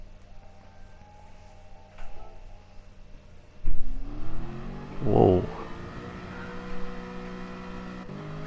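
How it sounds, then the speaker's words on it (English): Aston Martin car engine in Gran Turismo Sport revving and rising in pitch through acceleration, loud and close, with a brief exclamation from a person over it. "Sounds really good, this Aston Martin."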